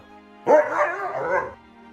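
A husky gives one drawn-out, close and loud vocal howl-whine with wavering pitch, lasting about a second, sounding like talking rather than barking.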